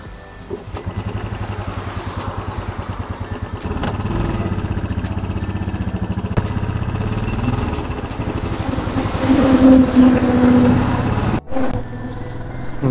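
A motorcycle engine runs steadily at close range while riding in rain from Jorhat to Sivasagar, a continuous mid-pitched drone with wind and road noise and no talk.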